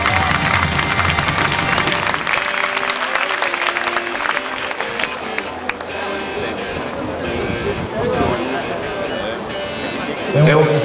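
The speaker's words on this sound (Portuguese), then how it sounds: "Vosso aplauso para Laura Serra" Spectators at the Estoril Open 2008 tennis tournament applaud a player with loud clapping and some cheering, mixed with voices and an announcer talking over the crowd.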